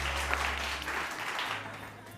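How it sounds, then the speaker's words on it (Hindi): Applause on a television morning show set, fairly soft and even under a low steady hum, lasting the full two seconds. "बहुत सारी तालियां"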